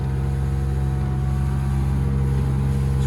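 Mercury 115HP OptiMax outboard engine on a Trophy 1802 WA boat running at about 4,200 RPM, a loud, steady, droning hum held evenly throughout, close by and without talk.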